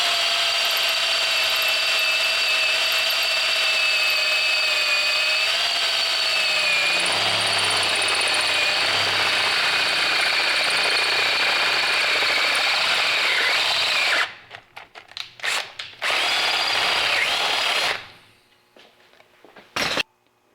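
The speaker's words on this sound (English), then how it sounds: "that cast sure drills easy." A power drill bores into a cast metal part, sustaining a steady high-pitched whine with grinding undertones for about fourteen seconds before breaking into a few stuttering bursts and stopping, heard close and loud with no talking.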